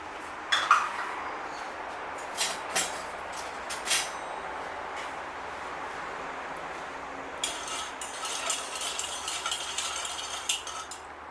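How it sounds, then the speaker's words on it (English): Metal whisk clinking and scraping against a bowl while beating a brown sugar mixture, light irregular taps at first, then a quicker run of rattling strokes later, fairly faint and without talk. "Just whisking a little bit"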